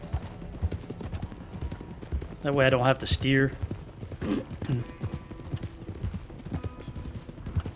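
Horse hooves clip-clop steadily in Red Dead Redemption 2 as the rider follows another character, someone talking over the hoofbeats with game sounds and brief bursts around the middle.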